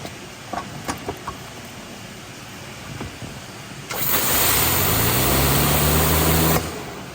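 Several light clicks and knocks come first, then an AR630 TSS turbo spinner cleaning tile at 1,600 psi starts a steady, loud, hissing spray with a low hum for about three seconds before cutting off.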